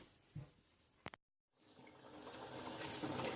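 Water is poured into a cooking pot (handi) for mutton pulao, a steady rushing pour building after a short clatter and pause, close and alone without speech.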